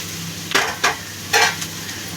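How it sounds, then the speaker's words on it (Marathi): Spice masala for a prawn dish roasts in oil in a pan, with three distinct scraping stirring strokes over a faint, steady background hiss. "तेलामध्ये भाजून घेणार आहोत"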